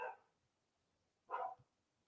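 Dogs bark twice, two short sharp woofs about a second apart, fairly distant and faint in an otherwise quiet room.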